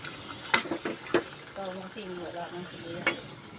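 A spoon stirs soup in a cooking pot, giving several sharp scrapes and clinks over a soft simmer, with a brief voice partway through.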